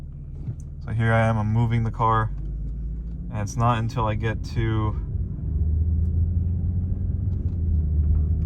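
A Mercedes W210 car pulls away at low speed, its engine and road rumble steady and low beneath someone talking, continuing on its own once he stops.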